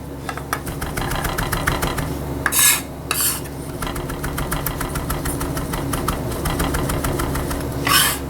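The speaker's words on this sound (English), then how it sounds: "Just gonna chop it up." Knife chopping fresh basil on a cutting board in a home kitchen: a rapid, steady run of crisp taps, close and clear, with no talking.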